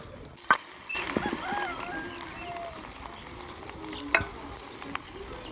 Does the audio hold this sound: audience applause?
no